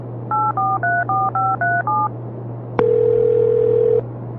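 A telephone keypad beeps out seven quick dual-tone digits over a low hum, followed by a single longer steady tone as the call connects in an audiobook scene.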